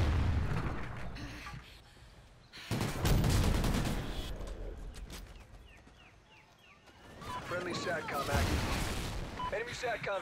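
Gunfire in Call of Duty Ghosts Extinction, shooting eggs on a multiplayer map, with loud rattling bursts and booming game effects in waves over a busy background of game sound.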